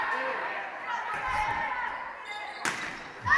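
A volleyball is struck hard during a girls' varsity high school match in a gym, a sharp slap rising above ongoing commentary and crowd chatter, with a second hit near the end.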